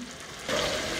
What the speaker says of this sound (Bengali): 5-6 মিনিট ভালো মতো ভুনলাম